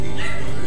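A dog barks loudly and close in a TV studio, one sharp yipping bark over a busy broadcast background with voices.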